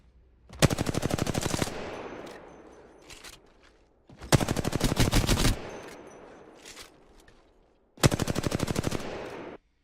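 Automatic gunfire in the video game Apex Legends, three loud rapid bursts of shots each lasting about a second or more, separated by short gaps with faint game noise between them.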